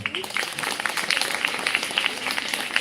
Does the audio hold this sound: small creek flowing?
no